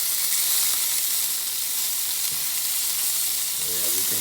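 Food frying in a pan, a steady bright sizzle hissing throughout, close and even, with a soft shuffle near the end as the pieces are turned over.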